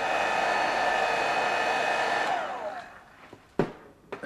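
A hair dryer blows on fresh paint on a diorama panel, a loud steady whine and rush that winds down and cuts off partway through, followed by a few quiet knocks and handling sounds.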